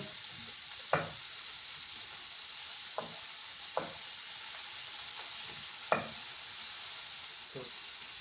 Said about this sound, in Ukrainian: Хай нам шкварки потихеньку там топляться.